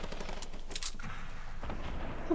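Pistol shots crack out in Fortnite, a few sharp reports fired at a distance with a steady hum of ambient game sound underneath, fairly quiet overall.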